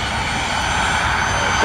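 A fixed-wing airliner powers up for takeoff on runway 01 right at Brisbane Airport, its engines a loud, broad roar building slightly toward the end, with a voice talking over it.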